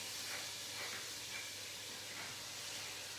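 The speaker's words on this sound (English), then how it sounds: "So we are basically sautéing our cabbage" York cabbage sautéing in a pan with bacon, a steady, quiet hiss of frying that stays even and continuous throughout, with no talk over it.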